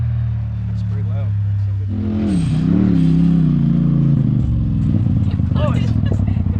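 A Polaris side-by-side engine drives and revs loud and close, its rising and falling drone running steadily under voices and some clatter.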